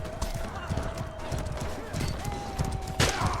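A horse galloping in the medieval combat game Mordhau, with steady clip-clop hoofbeats and a whinny amid battle noise, under a constant background hum and occasional game sounds while players chat in French.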